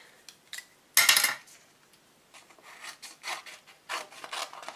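Paper card cut out by hand for card-making, close and quiet, with short scratchy snips and rasps in irregular bursts and one louder crisp cut near the start.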